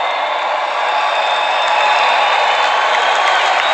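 A big crowd at the Fortnite World Cup final cheers and applauds in a loud, continuous roar that swells slightly and never drops away.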